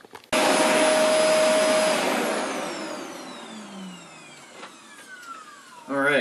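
A Shark Rotator vacuum cleaner switches on and runs with a loud, steady whine and a bright tonal hum, then its pitch and level drop as it works, before a fresh burst of noise near the end.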